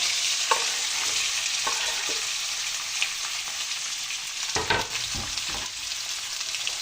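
Chopped onion and green pepper sautéing in a pan with meat masala and a pinch of salt, a steady bright sizzle broken by a few scraping stirs of a spoon, close and unaccompanied by speech.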